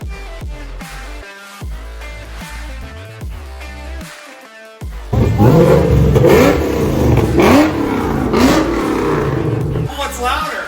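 Loud, sustained engine roar from an 800-horsepower, methanol-injected wide-body restomod, swelling suddenly halfway through and holding at high volume with rising rev sweeps, with music-like tones and voices audible underneath at the start.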